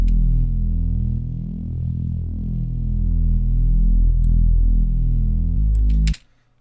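A sustained synth tone shaped by chorus, noise generator and saturator effects drones steadily, rich in buzzy harmonics with a gently shifting, throbbing texture, then cuts off abruptly near the end.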